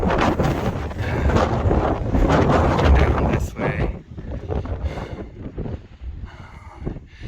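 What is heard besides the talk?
strong wind on mountain summit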